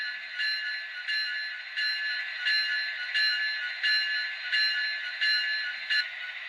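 Locomotive bell on Union Pacific 9041, a Spirit model engine, ringing steadily in evenly spaced metallic strokes, about nine clangs, loud and close with no talk, cutting off quickly at the end.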